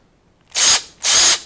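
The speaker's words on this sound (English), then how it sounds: "now you've got a straight piece which you can put in your power drill" A power drill spins a cut-off straight piece of Allen wrench in two short, loud whirring bursts separated by a brief pause, with no talking.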